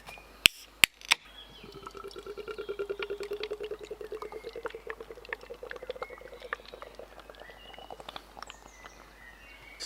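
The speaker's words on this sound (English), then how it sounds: "Slightly lively pour." A can of The Hop Foundry vanilla stout from Aldi is cracked open with a few sharp clicks, then poured in a lively stream whose fizzing, gurgling tone slowly rises as the glass fills, close and clear.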